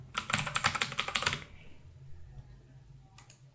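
A quick burst of close, crisp computer keyboard key presses as a password is typed, about a dozen rapid clicks, then quiet with a faint click near the end.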